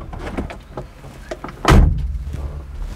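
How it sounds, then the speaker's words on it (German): The door of a 1966 Mercedes-Benz W108 250S shuts with a single solid, heavy thud midway through, preceded by light clicks and handling sounds close by. "das fühlt sich schon sehr, sehr sicher an, wenn diese Tür zugeht"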